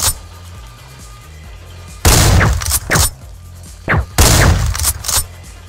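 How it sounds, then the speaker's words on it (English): A shotgun fires in a video game: about four loud, sharp blasts come at irregular intervals, each with a short crackling tail, over a quiet low background hum. "Let's use the shotgun."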